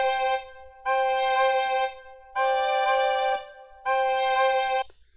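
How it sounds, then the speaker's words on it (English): Two recorders and a violin play an old trio in sustained chords, three long held phrases separated by short pauses, clear and moderately soft with no voices. "you can hear the two recorders and a violin"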